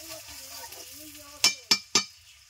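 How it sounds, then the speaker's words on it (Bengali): Chopped onions being stirred as they fry in a pan, a quiet sizzle with three sharp scraping strokes of the spatula close by near the end. "পেঁয়াজ দেওয়ার পর 2 মিনিট নেড়ে চেড়ে নিয়েছি।"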